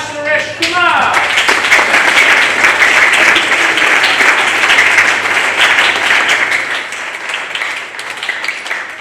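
At a presentation party, a crowd breaks into loud applause for a group of boys; a brief voice and tonal sound lead in before sustained clapping that gradually thins out.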